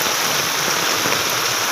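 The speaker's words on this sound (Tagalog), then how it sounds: "Ayan ito, baha-baha na." Floodwater rushing through a street during torrential rain, a loud, constant wash of flowing water and downpour close by, with no voices.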